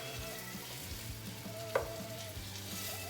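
Slices of green tomato frying in a pan, a soft, continuous sizzle heard up close with one brief sharp tick partway through.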